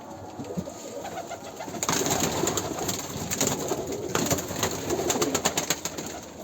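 Taklacı tumbler pigeons, a female among them, coo and call in a loft, the cooing steady and fairly close with rustling and busier bursts of calls building partway through, no voices over it.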